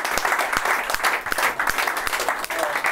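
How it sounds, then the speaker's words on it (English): A group of young footballers claps after a match talk on a 3G pitch, a steady, close burst of applause with a few faint voices mixed in. "give yourselves a round of applause"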